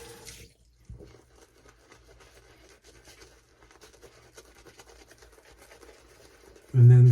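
Water is added to a shaving brush while building lather with shaving soap: a faint running trickle and light drips continue quietly, ending in a louder burst of water.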